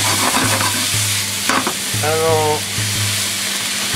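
A large batch of yakisoba noodles is stir-fried on a hot griddle, with a loud steady sizzle and repeated rhythmic spatula scrapes and clanks close up. A short tonal squeak cuts through midway.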